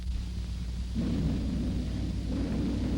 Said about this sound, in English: There's that thunder sound.